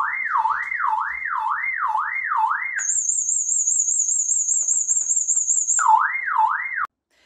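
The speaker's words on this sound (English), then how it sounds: "the alarm system gave me a good 60 seconds before that panic button went off" Arlo home security system alarm going off inside a house, a loud siren that sweeps up and down in a steady wail, switches to a sustained high piercing tone for about three seconds, then returns to the sweeping wail before cutting off abruptly.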